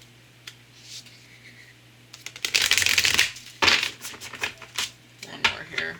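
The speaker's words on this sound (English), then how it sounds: "When I shuffle too much, my fingers like cracking open these darn big cards." Large matte-finish cards being shuffled by hand in riffling bursts, a close, crisp flutter that starts and stops several times over a faint steady hum.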